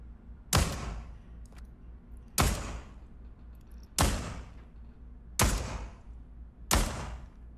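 Five loud revolver gunshots in the Pavlov VR video game, evenly spaced about every second and a half, each a sharp close blast with a decaying tail.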